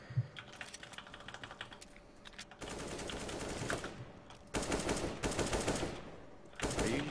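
Rifle fire crackles in CS:GO on Dust 2, quiet distant shots first, then several long loud bursts of rapid automatic fire separated by short gaps.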